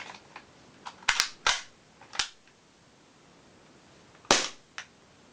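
Trigger of a Socom Gear Gemtech Oasis airsoft pistol, giving a handful of sharp, crisp clicks spaced irregularly, close up, with quiet pauses between them.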